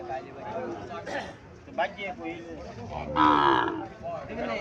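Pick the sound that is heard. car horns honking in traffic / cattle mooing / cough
cattle mooing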